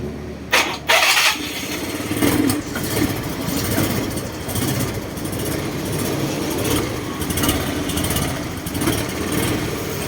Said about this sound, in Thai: เดี๋ยวผมจะลองสตาร์ทให้ดูว่ามันเป็นยังไงขนาดเครื่องเย็น